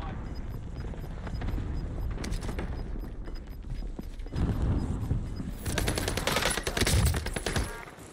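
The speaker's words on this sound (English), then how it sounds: "It's like three people shooting at me." Several players firing at once in a first-person shooter, an SMG loadout among them. Dense bursts of automatic gunfire come in overlapping volleys, growing heavier and louder toward the end.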